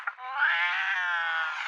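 A cartoon cat in a Regular Show episode lets out one long, drawn-out, whining meow, clear and close and sustained with no talk over it.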